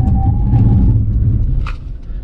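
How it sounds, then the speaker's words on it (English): A Honda HR-V crossover brakes hard from 100 km/h: steady road and engine rumble fading as the car slows, with a brief higher squeal near the end, loud and close from inside the cabin. "accelerate to 100 and do an emergency brake stop"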